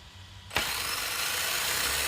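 Electric motor of an RC car driven from a converted PS3/PC steering wheel, quiet at first, then abruptly whirring up to a steady, loud partial-throttle hum that holds to the end.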